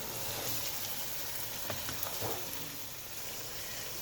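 Chicken pieces sizzle and fry in a pot with softened onions for a biryani, a faint steady crackle with a few soft scraping stirs in the middle.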